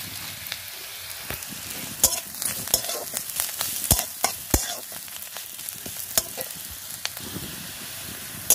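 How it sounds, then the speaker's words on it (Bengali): Chopped onions fry in a pan until reddish, a steady crackling sizzle punctuated by sharp clicks and scrapes of a spatula stirring, close and moderately loud with no voices. "পেঁয়াজটা আমি একটু লাল লাল করে ভেজে নিচ্ছি"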